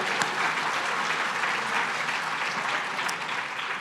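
Guests at a charity dinner gala clap together in a full, even round of applause that stays steady and close for several seconds without pause.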